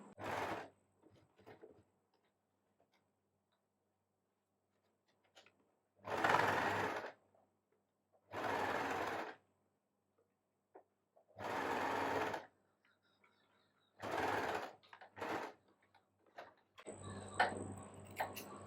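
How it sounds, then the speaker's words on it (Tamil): A sewing machine stitching along the edge of a back-open blouse, running in several short, loud, close bursts of rapid whirring with quiet pauses between them. "இங்கே தொடங்கி இந்த எட்ஜில் அப்படியே ஸ்டிச் பண்ணி வந்துடணும் கீழே வரைக்கும்"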